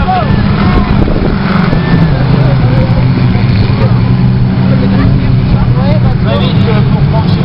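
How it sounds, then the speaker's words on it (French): Stock car engines warm up before a race at Neuvy-en-Mauges, a loud, continuous rumble of several engines close by with rising and falling revs and voices mixed in. "Alors, on fait chauffer les moteurs."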